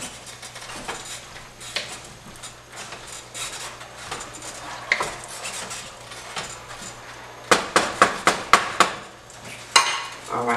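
A spoon stirs homemade lentil soup in a pot on a stovetop, with soft scraping and clinking through the first part, then a run of sharper metallic knocks against the pot rim near the end, fairly close and moderate in volume.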